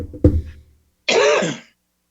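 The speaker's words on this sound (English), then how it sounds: "cough is getting worse." A sharp single cough, then after a brief pause a longer, raspy throat-clearing cough, close to the listener.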